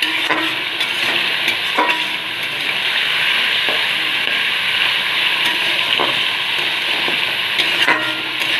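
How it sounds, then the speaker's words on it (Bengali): Cut potatoes stir-frying in hot oil, a loud, close, steady sizzle and hiss with occasional scraping strokes of a spoon against the pan, and no one talking. "আলুটা একটু ভাজা ভাজা করে নেব।"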